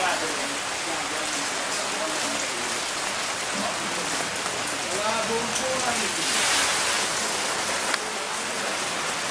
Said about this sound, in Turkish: Çok güzel bir yağmur yağıyor maşallah sabahtan bu yana.